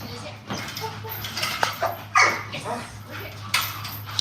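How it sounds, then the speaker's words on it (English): German Shepherd puppy in bite work training barks and whimpers in short, uneven bursts, with yips and whines scattered through, close by, while people talk in the background. "So this is a German Shepherd here."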